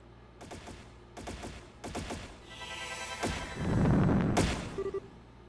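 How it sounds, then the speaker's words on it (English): Several rapid bursts of video game gunfire from Trails in the Sky SC crackle in quick volleys, followed by a loud rushing blast and rumble, with sharp impacts near the end. "Is that gunfire?"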